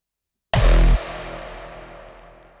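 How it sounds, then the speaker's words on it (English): A single reverby hardstyle kick drum hits hard after a brief silence, with a distorted booming low body lasting about half a second and a long reverb tail fading out. "Bit of a reverby hardstyle kick"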